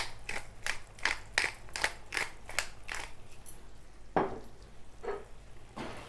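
Spiced keema mince with chaat masala, garam masala and crushed black pepper being stirred with a spoon in a pan: a run of quick, evenly spaced scraping strokes, then two slower, heavier scrapes, close and fairly quiet.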